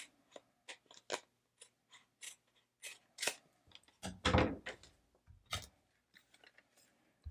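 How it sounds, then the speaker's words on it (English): Scissors trim across the top of a homemade custom chip bag in a run of crisp, close snips, quick cutting strokes spaced through the clip with a louder slicing stretch in the middle. "I'm going to take my scissors, and this one came out pretty nicely, but I'm just going to trim across"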